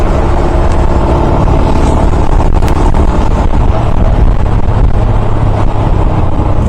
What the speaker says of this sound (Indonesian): soalnya mobil tuh kencang-kencang